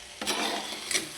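A spoon rasps through a half-cooked chicken curry in a pot, two close scraping strokes over a quiet background with no voices.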